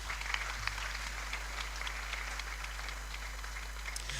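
A conference audience applauds to welcome a speaker to the stage, steady moderate clapping from many hands layered over a constant low hum from the hall's sound system.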